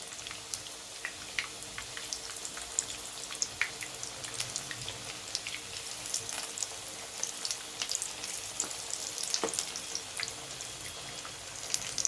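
Chicken shami kababs frying in a pan, a faint, steady sizzle with scattered small crackles and pops, quiet and without voices.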